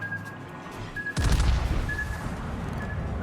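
Rear guns of the battleship Mecklenburg in World of Warships let loose a single deep, heavy salvo boom that rolls into a long rumbling tail, with a soft game tone pinging in the background.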